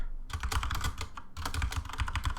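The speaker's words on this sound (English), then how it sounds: "my microphone is right next to my mechanical keyboard, so it's probably going to pick it up" Rapid, steady typing on a mechanical computer keyboard right beside the microphone, clicky keystrokes in dense bursts with a short pause near the middle, loud and close, no voices.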